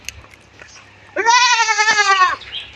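A goat in a semi-confined goat-rearing shed, being fed onion leaves, gives one loud, drawn-out bleat lasting about a second, with faint background noises before and after.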